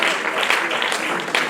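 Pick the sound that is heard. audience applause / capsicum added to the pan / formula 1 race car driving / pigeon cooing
audience applause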